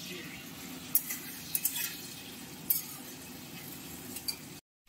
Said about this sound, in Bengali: আলুটা সুন্দর করে ভেজে নেওয়ার পরে দিয়ে দেওয়া হচ্ছে আমাদের বেটে রাখা মশলা।